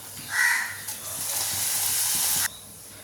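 Another batch of papadam goes into hot oil and fries with a loud, even sizzling hiss that builds and holds for a couple of seconds before cutting off sharply. No one speaks.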